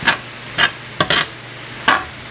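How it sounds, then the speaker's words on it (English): A utensil stirs sausage drippings in a pan, giving four or five short, separate scraping strokes with brief pauses between them, close and fairly loud over a faint background. "Drippings from the sausage. And let's give it a good stir."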